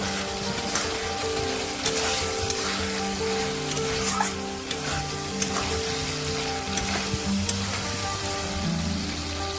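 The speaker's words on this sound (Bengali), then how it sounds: "মশলা থেকে তেল ছেড়ে আসলে দিয়ে দেব সেদ্ধ করে রাখা ওল, দিয়ে ভালো করে নেড়ে নেব।" Boiled elephant foot yam is stirred into hot spiced oil in a pan, with a steady crackling sizzle, intermittent scraping and small knocks of the spoon, and a low hum underneath.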